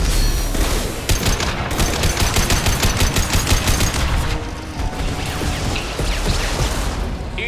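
High-impact weapon shots in Mass Effect 2 fire in a dense, loud barrage of rapid cracks and booms, sustained for several seconds with mechanical clatter underneath.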